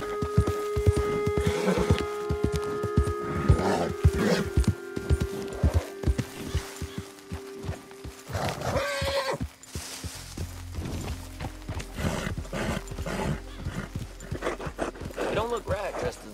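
A horse in Red Dead Redemption 2 trots with rhythmic hoof clip-clops, snorting and a whinny, under game dialogue from a character's voice, and later a low steady rumble enters beneath the hooves.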